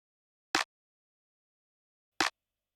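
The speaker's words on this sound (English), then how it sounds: "On the snare track I have a clap layered with a rim shot sound." A layered clap and rim shot played from the snare track of a Teenage Engineering OP-Z synthesizer sounds twice, about 1.7 seconds apart. Each hit is a short, crisp, bright percussive burst that stands alone between stretches of silence.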